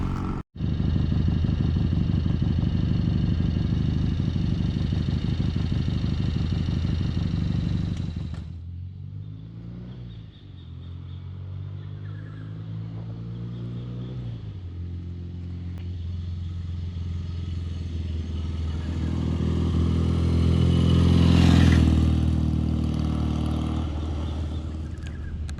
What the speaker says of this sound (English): You've got to love the sound of the idle of this bike.